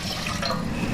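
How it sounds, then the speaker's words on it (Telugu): Water pouring from a tap into a cooking pot to boil toor dal lentils for drumstick sambar, a steady close splashing fill running the full second without pause. "పప్పు ఉడకడానికి సరిపడా నీళ్లు వేసుకుందాం"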